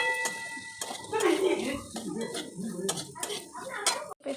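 Ground coriander, cumin and turmeric are stirred and fried in a pan, with a metal spatula scraping and clinking irregularly against the pan while a voice speaks intermittently.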